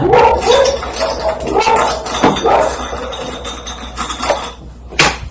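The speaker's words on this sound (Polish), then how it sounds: "piesek szczeka e, na zewnątrz" A small dog barking outdoors, a few short yaps heard at some distance behind household clatter and room noise.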